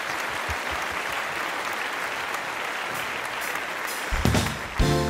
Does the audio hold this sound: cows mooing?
no